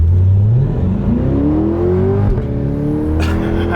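A 2020 Chevrolet C8 Corvette convertible's engine gurgles and rises in pitch as it accelerates, then eases off and climbs again, loud and close with no talking.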